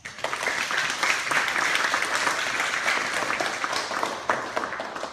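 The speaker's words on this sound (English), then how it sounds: "one more round of applause" Enthusiastic applause from an audience at a teen history quiz bowl, dense clapping rising quickly and sustained for several seconds before tapering.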